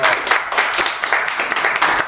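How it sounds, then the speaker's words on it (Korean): Dense, steady applause from an audience, a crowd clapping continuously with bright, crackling texture and no pauses. "여러분, 박수 한번 부탁드립니다."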